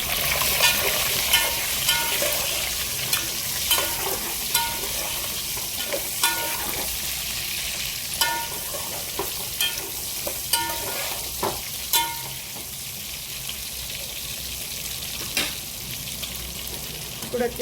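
Bottle gourd pieces sizzle in a pan, with a steady frying hiss throughout and regular clicks and scrapes of a spatula as it is stirred.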